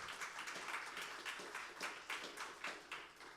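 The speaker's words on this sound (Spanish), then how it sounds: "Eso merece que le demos un aplauso a nuestro Salvador." A church congregation applauds together, a steady wash of many hands clapping at moderate distance, quiet and even throughout with no voices on top.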